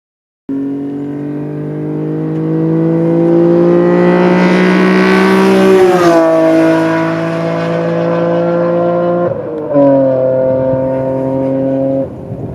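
A BMW S54 inline-six engine with velocity stacks in an E46 M3 revs hard and climbs in pitch, a loud, continuous induction howl that eases briefly, then surges again near the end.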